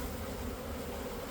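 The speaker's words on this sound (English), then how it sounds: "comprehensive dump of the bees that are in there" Dense, steady buzzing of many honey bees swarming close together in a shipping package, a continuous humming drone with no other sounds.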